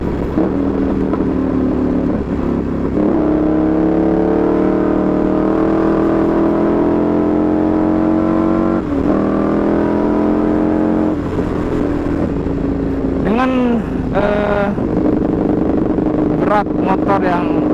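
A Ducati 848 Evo motorcycle engine revs steadily at high pitch, then throttles up and down in sharp bursts, loud and close, with no talking.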